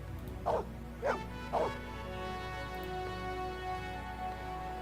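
Three quick dog barks in a row, fairly close, then a steady low hum with no more barking, in the video game Blade Runner.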